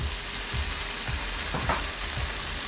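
Crushed ginger, garlic and chopped green chillies frying in a pan give a steady close sizzle, with a few soft thuds of stirring breaking through.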